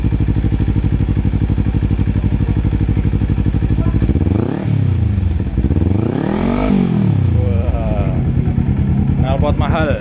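Kawasaki Z250 motorcycle with a Termignoni muffler, loud and close, idling with a rapid throb, then revved sharply twice in rising and falling sweeps before settling back.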